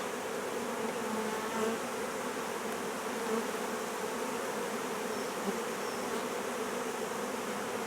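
Many honeybees buzz in a dense, continuous drone close by, the hum steady with slight swells throughout.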